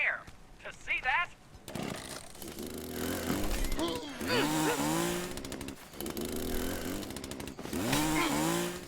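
A chainsaw in the video game The Culling buzzes and revs in repeated bursts, rising and falling in pitch, loud and close, with brief chirpy game-like effects at the start.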